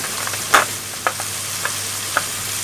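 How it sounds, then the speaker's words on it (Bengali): Ground cumin, coriander, turmeric and chili powder sauté in a pan with a constant hissing sizzle, broken by several light stirring scrapes and taps. No one talks. "এখন আমরা মশলাটা ভালো করে কষাই নিব"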